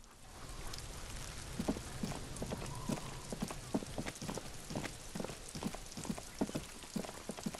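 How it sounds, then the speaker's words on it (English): Steady rain falling in the Disco Elysium game, a constant wash of patter with irregular heavier drops tapping a hard surface throughout. "It's raining again."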